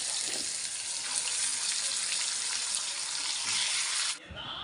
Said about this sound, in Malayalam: ചിക്കനൊക്കെ ഓരോന്ന് ഞാനിങ്ങനെ പൊരിച്ച് എടുക്കണേണ്